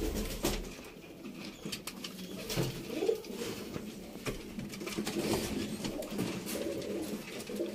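Rampuri pigeons coo in low, soft, repeated calls close by, with light pattering and shuffling movement throughout and no talking.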